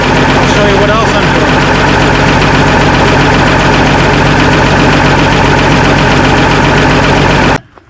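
A Minneapolis Moline G tractor engine idles loud and close, warming up with a steady low rumble and a rhythmic knocking beat that stops abruptly at the end.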